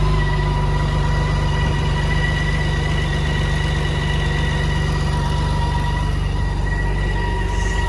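A new motorcycle idles on its stock exhaust, with a steady, continuous engine hum heard up close and no pauses.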